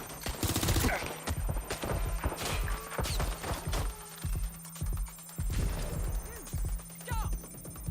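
Gunfire in the video game Watch Dogs: Legion, with bursts of shots cracking out repeatedly across the scene over a steady low hum, amid shouting voices.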